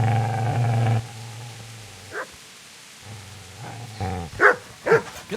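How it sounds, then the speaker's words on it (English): A dog in the medieval video game Kingdom Come: Deliverance growls, then lets out a few sharp barks and yips, close and fairly loud, with no talk. "Get away, you mutt!"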